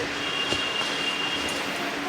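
A Kolkata Metro train at Noapara station gives a steady rumble and a thin high whine, with faint clanks over the platform ambience.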